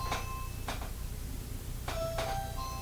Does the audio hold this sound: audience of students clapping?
no